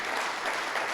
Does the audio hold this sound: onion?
no